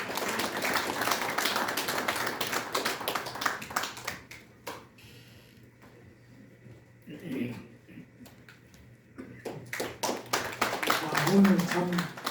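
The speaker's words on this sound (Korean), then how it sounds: "박수로 환영해 주시면 감사하겠습니다" Audience applause rising to welcome a speaker, a former governor, at the opening ceremony of the Syngman Rhee VR memorial hall in a press center; a steady roomful of clapping, fading to a lull and swelling again.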